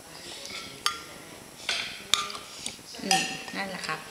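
A knife cuts bitter melon into small pieces on a plate, making scattered close clinks and taps of metal against crockery, with quiet talk in the background.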